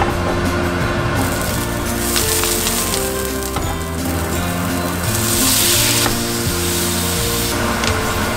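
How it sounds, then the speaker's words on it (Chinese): Tomato stir-frying in a wok for tomato and egg, a steady loud sizzle with spatula scraping and tossing, swelling into a brighter hiss partway through, with background music and no talking. "就可以继续做番茄炒蛋。"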